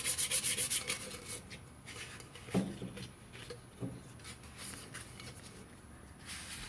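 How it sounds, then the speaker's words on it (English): Hand sanding around the outside lip of a cup, a steady back-and-forth rubbing scrape that runs throughout at close range, with a couple of slightly louder strokes midway and no talking. "I'm going to sand to get it nice and even and smooth."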